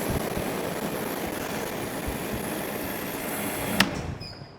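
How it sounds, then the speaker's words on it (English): A BIGBOI WASHR FLO pressure washer's induction motor hums steadily and evenly for about four seconds, up close with no whine, then cuts off with a brief click. "The induction motor sounds great."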